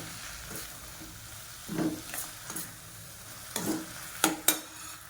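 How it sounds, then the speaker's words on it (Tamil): Drumstick leaves and tomato sautéed in a pan, with several scraping stirs and soft sizzling bursts spread irregularly across the stretch, fairly quiet and with no voices. "ஒரு ரெண்டு கைப்பிடி நான் கீரை வந்து சேர்த்துக்கிறேன் சேர்த்துட்டு வதக்கிக்கோங்க"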